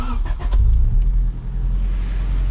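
A car with a newly installed oil catch can is started, a brief crank giving way to a loud, steady low idle close by, with no talking.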